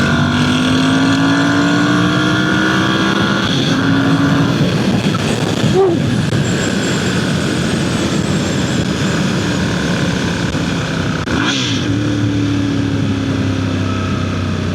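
Ducati Monster 1100 motorcycle accelerating hard on a road at night, a loud continuous engine roar with rising and falling pitch through gear changes, close to the rider and steady throughout.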